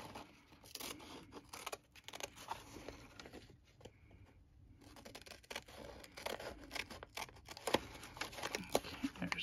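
Scissors cut through freezer paper in a steady run of short snips and soft rustling scrapes, close and fairly quiet, with a brief pause partway through.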